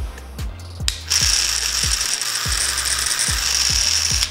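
A BaBylissPRO LimitedFX Boost+ hair clipper with a loose number 2 guard buzzes loudly and steadily at close range, with a rhythmic mechanical rattle repeating about every half second.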